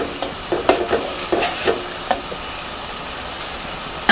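Capsicum being fried and stirred in a pan, a steady sizzle with scattered spatula scrapes and clicks throughout, close and fairly loud, no talking.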